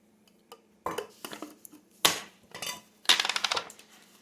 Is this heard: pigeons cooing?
no